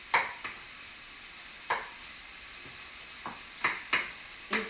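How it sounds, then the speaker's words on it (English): Bacon cooking in a pan on a home stove, soft steady sizzle beneath several sharp clinks and scrapes of a utensil against the pan, spaced irregularly and fairly close. "while that bacon is cooking"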